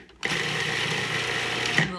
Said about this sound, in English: We are going to first put the lid on and chop these fine.